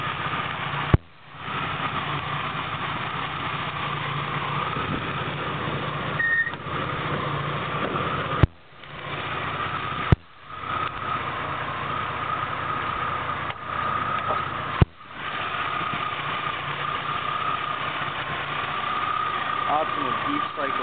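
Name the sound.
1990 Jeep Cherokee 4.0 engine idling under open hood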